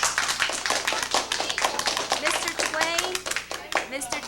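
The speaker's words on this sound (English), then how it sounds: "Can we clap for our visitor, please?" Schoolchildren in a fifth-grade classroom clap for a visitor, a steady patter of many hands with a few children's voices mixed in throughout.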